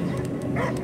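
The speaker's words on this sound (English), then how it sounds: "I hear only barking." A dog barks in the Guardians of the Galaxy video game, a short, loud yelp or two sitting over a dense, continuous background of game sound.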